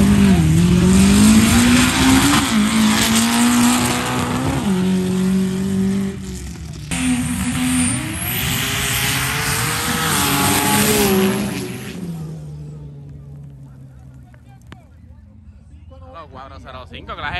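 A turbocharged street race car accelerates hard nearby, its engine climbing through gear changes and cutting out briefly before roaring on again, then fading away to near quiet with a faint distant engine at the end.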